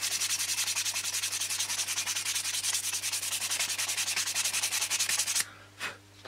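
Steady, rapid back-and-forth sanding strokes on lacquered model airplane fuselage sides, close and continuous for about five seconds, then a stop and a final single rub.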